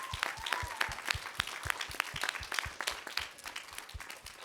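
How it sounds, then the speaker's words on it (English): Modest audience applause at a middle school ambassador presentation for fifth graders, a steady patter of many hands clapping at a moderate distance, without voices. "if we could give a big round of applause to our amazing ambassadors"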